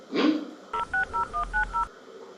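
Six short touch-tone beeps in quick, even succession, clear and close, following a brief rustle at the start.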